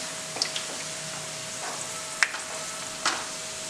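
Chicken for rara kebab is sautéed in a pan, a soft continuous sizzle with a few sharp spoon scrapes and taps against the pan.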